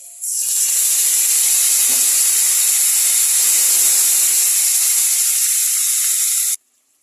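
Spices tipped onto fried potatoes in a hot pan, a loud sudden hiss that holds strong and steady for several seconds and then cuts off abruptly.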